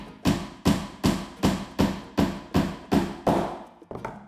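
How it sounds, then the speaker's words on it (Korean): Hammer driving a nail into wood at a woodworking workshop, struck with the flat face: about nine loud, evenly spaced, ringing blows, close up, followed by a softer final tap. "망치의 편편한 쪽으로 못을 박을 겁니다"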